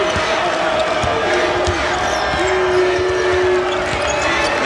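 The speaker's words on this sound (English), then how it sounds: "This crowd getting feisty on St." Loud, dense arena crowd noise at a Penn State versus Notre Dame men's college basketball game on St. Patrick's Day, with steady roar and ball bounces throughout, plus a sustained whistle-like tone partway through.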